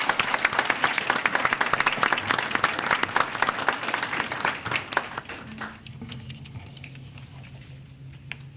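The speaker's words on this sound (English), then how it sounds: "Let's give them a big round of applause." A crowd at a school board meeting applauds high school students who won statewide at a Beta convention, with dense, loud clapping that thins and fades toward the end, leaving quieter room sound.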